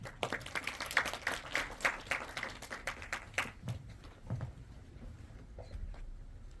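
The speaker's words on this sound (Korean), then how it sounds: "큰 박수 보시겠습니다" An audience at an AI film festival event claps in a moderate burst that fades away after a few seconds, leaving a low murmur.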